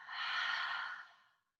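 One long, smooth exhale through the mouth during a guided breathing exercise, close and soft, swelling and then fading away into silence.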